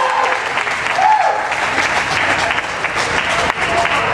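Audience applause for singing contestants at a country singing showdown, a dense, steady wash of many hands clapping that fills the whole stretch with no talk over it.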